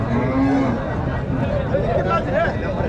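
Cattle moo loudly at a busy livestock market in Tamil Nadu, a drawn-out low call rising above steady crowd chatter and babble.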